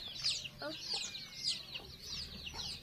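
Chickens cluck in a repeated run of short, moderately close calls, heard while people talk quietly in Thai nearby.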